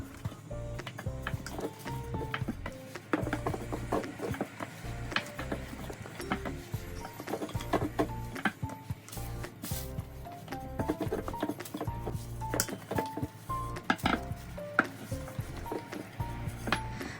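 A wooden rolling pin presses and rolls dough thin on a board, giving irregular soft knocks, taps and clatter close by, mixed with faint background music.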